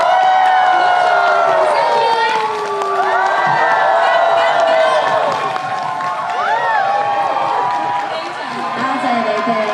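A large concert audience at a graduation show cheers and screams loudly and continuously, with whoops and shouting voices layered over a sustained roar of crowd noise and applause.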